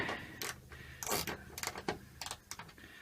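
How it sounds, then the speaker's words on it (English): A hand ratchet working tech screws loose inside an XC Falcon car, with quick bursts of clicking and scraping at an uneven pace, close and fairly quiet, with some faint voice sounds in the background. "getting these tech screws out is a nightmare"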